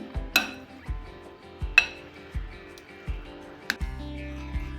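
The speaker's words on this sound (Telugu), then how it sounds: "రైస్ వేడిగా ఉన్నప్పుడే ఇలా గరిటెతో మెత్తగా చేసుకోవాలి" A ladle mashes hot cooked rice in a pot for curd rice prasadam, giving about seven soft, steady thumps with light metallic clinks against the pot and no talk.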